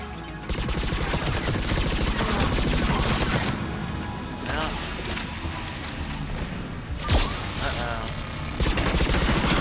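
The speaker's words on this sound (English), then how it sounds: "Turret up there is gonna be a problem." A turret fires in Mass Effect 3 multiplayer in dense, rapid bursts of gunfire over a noisy battle, with a few heavier booms mixed in and voices underneath.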